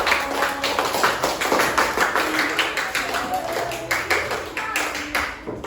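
A fifth-grade civics class in Indonesia claps hands together in steady, rhythmic bursts for several seconds, close and lively, with children's voices mixed in.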